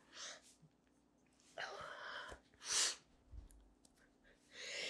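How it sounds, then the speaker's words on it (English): A single loud sneeze bursts out in a quiet room, preceded by sharp inhales and sniffing, with breathy noises and a little speech around it. "and I got to sneeze."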